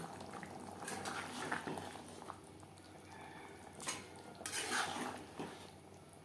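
Gravy for Bengali hilsa fish curry with potatoes bubbling in a pot, a soft steady boil with occasional clinks of a utensil against the pan, faint and close, with no voices.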